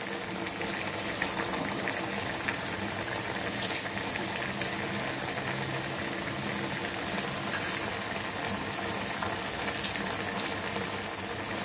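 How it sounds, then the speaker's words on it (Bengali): Pabda fish curry boiling steadily in an uncovered pot, a dense, continuous bubbling and hiss that holds even and fairly close for the whole stretch, with no voices. "তরকারিতে বলক চলে আসছে।"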